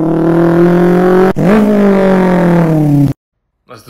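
A voice mimics an SR20DET turbocharged car engine, a steady droning rev that dips briefly and climbs again for about three seconds, loud and close, then cuts off to near silence followed by a short breath.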